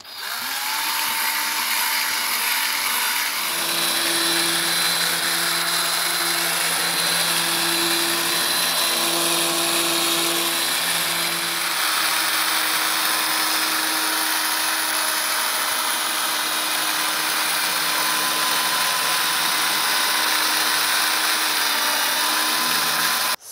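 Power polishing tool buffing scratched clear plastic, a continuous loud whine with shifting tonal hums as pressure changes, running steadily throughout without talk.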